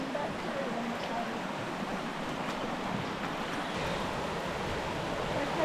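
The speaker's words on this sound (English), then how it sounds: "still following the creek down" Creek water flows steadily along a stream bed in the Arkansas woods near Bear Creek waterfalls, a constant broadband rush with light wind, moderately loud and unbroken throughout.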